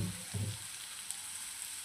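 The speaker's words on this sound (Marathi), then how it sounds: "अशा पद्धतीने टाकून आता छान हलवून घेऊ." Garlic and ginger fry in oil in a pan for veg cabbage manchurian, giving a steady faint sizzle with a couple of soft stirring scrapes near the start.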